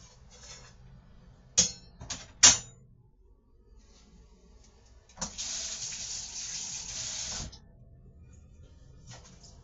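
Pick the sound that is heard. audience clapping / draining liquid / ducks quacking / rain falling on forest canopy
draining liquid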